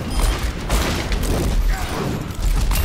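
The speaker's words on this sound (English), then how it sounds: "trying to protect the door from artillery" Artillery fire in the Overwatch Junkenstein event booms and crackles in a dense, noisy barrage of blasts and mechanical clatter, loud and continuous over a few seconds.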